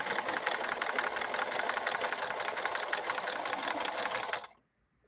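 A 1964 Montgomery Ward sewing machine stitching at an even, rapid rhythm, a close mechanical whirr with a steady needle beat for over four seconds before cutting off to near silence.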